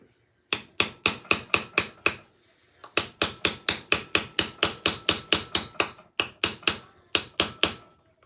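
Rapid, sharp hammer blows strike metal armour in a home garage workshop, coming in steady runs of close, ringing taps separated by brief pauses.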